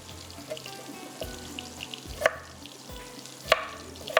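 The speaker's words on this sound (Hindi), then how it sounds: "इसको आलू को हम डालेंगे यहाँ पर। आलू को भी करना है हमने गोल्डन ब्राउन" Potato pieces frying golden brown in a pan for aloo tahiri, a steady sizzle with occasional stirring clatters and a few sharp utensil knocks, no talking.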